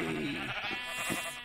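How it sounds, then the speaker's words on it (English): Minecraft sheep bleat while being sheared in a video game, a quavering synthetic bleat or two under steady background music. "One man went to shear, went to shear his sheep."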